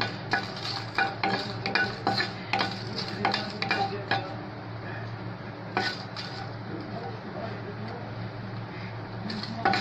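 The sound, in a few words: lightly dry-roasting dried red chillies in a pan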